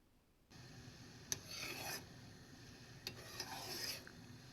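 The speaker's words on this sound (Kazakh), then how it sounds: "Жай ғана қозғап тұрамыз." Raspberry syrup simmering over low heat in an enamel pot, stirred slowly, with two bursts of scraping stirring strokes over a quiet bubbling background, close and soft.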